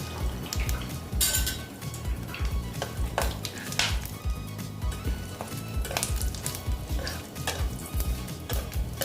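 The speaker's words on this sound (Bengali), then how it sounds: "দেখো তেলটা গরম হতে দিচ্ছি দেখো মোটামুটি তেলটা গরম হয়ে গেছে দেখো এই যে ফোড়নের এইগুলো দিয়ে দিচ্ছি" Whole tempering spices sizzle and crackle in hot oil while a utensil stirs and scrapes the pan, steady frying hiss with sharp pops and clinks, close and fairly loud, no voices.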